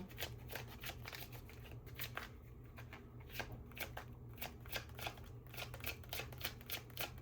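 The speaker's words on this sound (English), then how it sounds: "Let's finish out this shuffle." Close, soft riffling of tarot cards being shuffled, repeated quick bursts in a steady rhythm with a quiet hum underneath.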